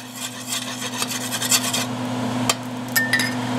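Bacon grease is wiped onto a cast iron skillet with a cloth or paper, a close, dry rubbing and rasping over a constant background hum, with a few light knocks.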